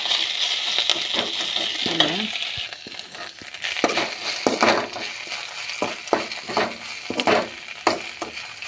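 Drumstick leaves (murungai keerai) with egg being sautéed in a pan, a steady sizzle broken by scraping and stirring strokes of a spoon against the metal, with brief clinks and short bits of nearby speech.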